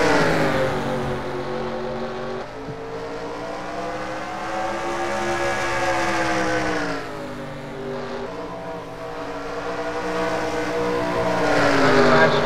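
Several race cars in a Bristol heat race drone steadily at close range, engine pitch rising and falling in long sweeps as they work the high line of the banked track, with a continuous loud roar throughout.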